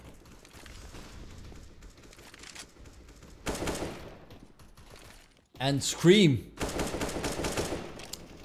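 Bursts of rapid gunfire from wall bangs in a CS:GO match on Inferno, loud and sharp, punctuating the action amid a caster speaking over the gameplay.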